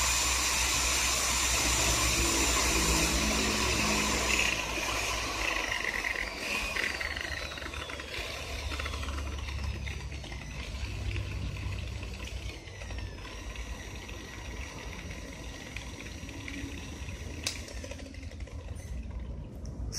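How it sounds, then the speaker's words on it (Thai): A DA21mm 1050-watt dual-action car polisher runs steadily with a soft, smooth whirring hum, fairly quiet and continuous, with no voices over it. "เสียงนุ่มมากนะครับไม่ดังเลยนะครับผิดนิสัยของ DA ทั่วไปนะครับ"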